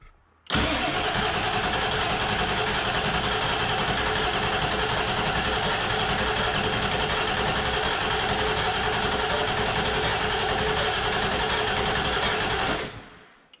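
A 7.3L Powerstroke diesel engine, just back together after a head swap, cranks and runs continuously at a loud, steady, close level for about twelve seconds, then cuts off abruptly.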